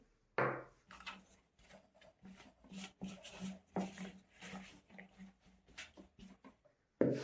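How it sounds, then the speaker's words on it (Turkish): Wooden spoon roughly gathering lavash flour-and-water dough in a bowl, steady scraping and knocking strokes with soft thuds, close and fairly quiet, running for several seconds with no speech. "Evet tahta kaşıkla hamurumuzu şöyle bir kabaca toparladım."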